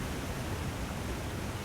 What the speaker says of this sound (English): can't even hear where he is because of the waterfalls.